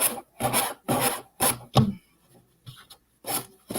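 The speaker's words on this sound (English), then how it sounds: "sanding block and just trim the edge so I don't have to worry about cutting it straight" Repeated rough rasping strokes of a sanding block trimming a paper edge, about seven short passes with brief pauses, close and fairly loud.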